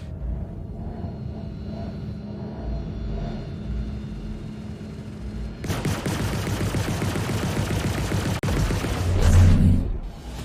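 Ship weapons in the space game Star Citizen open fire on enemy contacts: a low rumble gives way to a sustained, dense barrage of rapid shots that roars on for several seconds, loud and close.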